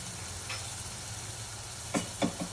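Chicken stirred through frying masala in a pan: a steady low sizzle, with three short scraping stirs near the end, no voices.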